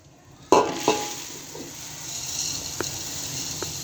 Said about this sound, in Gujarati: હવે આપણે તેમાં એકદમ સારી રીતે ચમચો ફેરવી લઈએ